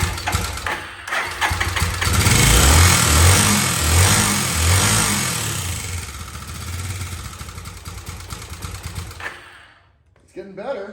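The engine of an abandoned motorcycle, brought back to life, runs and revs in a garage with its choke being adjusted. A loud, throaty rumble swells and holds, then falls away near the end, with a voice talking over it.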